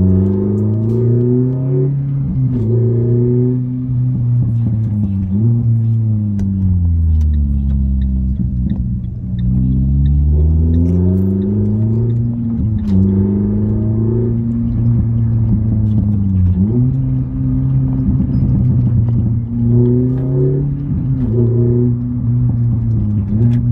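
A front-wheel-drive Renault Sport Sandero with a 145-horsepower engine accelerates hard, its engine note rising through the revs, then dropping at each gear change and climbing again in repeated sweeps, loud and close from inside the car.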